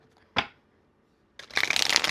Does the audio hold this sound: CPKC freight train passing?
no